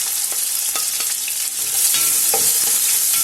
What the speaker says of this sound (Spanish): Y con el mismo aceite vamos a echar la cebolla, el ajo y el pimiento. Vamos a sofreírlo bien